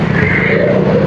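A jeepney passes close by on a busy road, its engine a steady, loud rumble through the whole short moment, with no voices.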